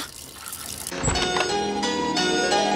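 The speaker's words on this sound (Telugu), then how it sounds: "నువ్వు ఫోన్ చేసినప్పటి నుంచి ఆ ట్యాప్ కారుతూనే ఉంది." Water begins pouring from a leaking tap into a sink after a brief quieter moment, then keeps splashing steadily.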